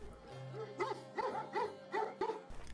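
Dogs caged at a Korean dog meat farm bark and yip in a quick rhythmic series of about five calls over a low background hum.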